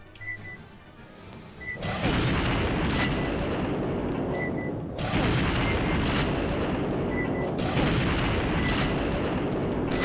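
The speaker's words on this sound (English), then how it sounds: "I don't know how to switch to my rocket launcher." Heavy booming blasts and sustained roaring explosions from rocket launcher fire in the game Aliens versus Predator, loud and dense, with a fresh salvo partway through and no talk.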